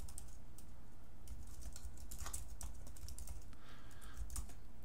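Close, clear typing on a computer keyboard while composing an email, a quick uneven patter of key clicks that carries on steadily without any talking.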